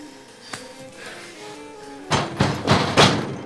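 Someone bangs on a house door from outside, a faint thump first and then a loud run of four heavy knocks in quick succession near the end, over low background hum.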